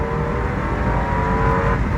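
Rental BMW accelerating hard around the Nürburgring, a steady loud engine drone with a sustained rising whine held throughout, close and continuous with no talk.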